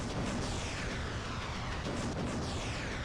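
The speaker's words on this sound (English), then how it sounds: "I'm going to take a couple of shots here." Weapon fire from battle robots in the mech combat game War Robots, a dense, continuous barrage of booming blasts and bursts heard close and loud throughout, with no talking.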